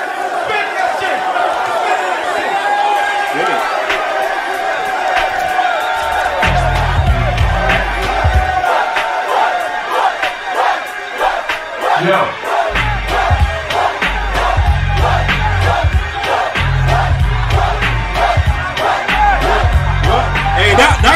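Crowd cheering and roaring at a rap battle in the film 8 Mile, a loud, dense and sustained swell of shouts and whoops, with heavy bass music thumping underneath in bursts.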